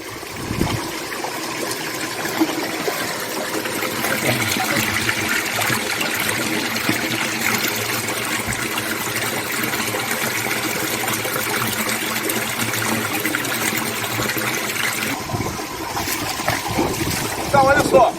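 Water falls and splashes continuously into a recirculating tank system, aerating it with a steady trickling, bubbling wash heard up close throughout, with some talk faintly in the background.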